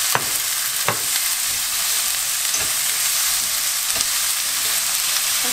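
Bellflower root stir-fried with garlic crackles in a hot pan, a dense, loud sizzle running throughout, with a handful of sharp utensil scrapes and taps at irregular intervals.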